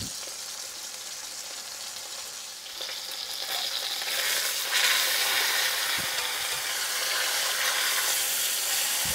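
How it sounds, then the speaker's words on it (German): An herb-crusted pork roast sears in a hot pan, giving a steady frying sizzle and hiss that grows louder and denser partway through, with a few faint clicks and no talking. "Und jetzt stelle ich ihn noch einmal kurz auf und lasse ihn da ein bisschen anbraten."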